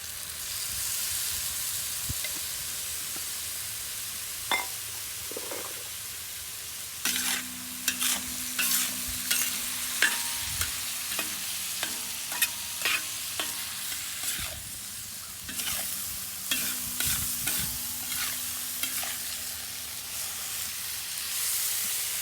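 Beef fajitas with homemade salsa and tomato juice sizzling on a rocket stove, a steady frying hiss broken by repeated sharp scraping stirs of a utensil, close up with no talk.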